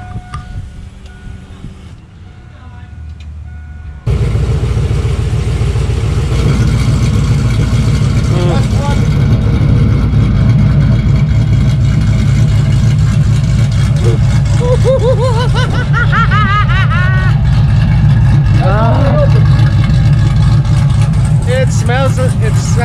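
A 2002 Chevy Suburban V8 fitted with a new exhaust cutout idles with a loud, deep, steady rumble after a brief quieter stretch, with short revs rising over the drone and people talking nearby.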